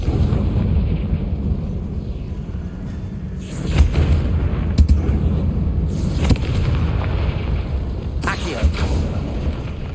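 Confringo fire spell explosions in the Hogwarts Legacy video game, heard as several booming bursts over a continuous low rumble, with game dialogue and ambience in the background.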